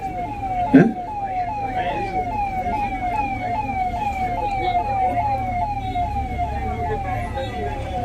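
A wailing ambulance siren sweeps up and down in rapid repeating cycles over traffic rumble at a busy protest, with a brief thump near the start and no clear speech.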